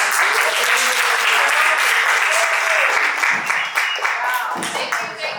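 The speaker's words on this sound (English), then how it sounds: "Can we give a round of applause?" An audience at a conference applauds a speaker being introduced, a loud wash of many hands clapping near the start, with voices and cheering mixed in and the clapping thinning toward the end.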